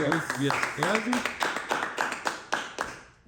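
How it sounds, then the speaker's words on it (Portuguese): Hands clap in a quick, steady rhythm close by, while a voice speaks over the first part of the clapping. "Uma salva de palmas, por favor."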